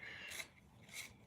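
Two short, rasping scrapes of something being sharpened at a painting session, soft and close with a steady rhythm, no talk.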